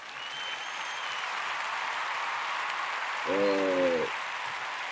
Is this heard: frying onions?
no